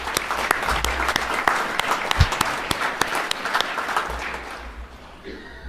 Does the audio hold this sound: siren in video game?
no